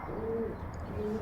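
Racing pigeons coo softly at the loft after a 600 km race in Kirkuk, two short low coos close by over a murmuring background.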